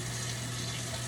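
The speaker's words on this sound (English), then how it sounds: "We want to add 60 grams of water." Warm tap water running steadily from a faucet into a bowl sitting on a kitchen scale for sourdough dough, a continuous even splashing rush with no pauses.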